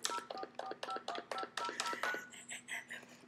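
Telephone keypad dialing tones beep in a quick, steady run of about nine short presses while placing a call, followed by fainter higher beeping and faint background voices.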